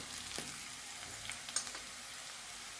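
Sliced onion and garlic fry in a pan with turmeric, giving a faint steady sizzle with a few small crackles and one sharper tap.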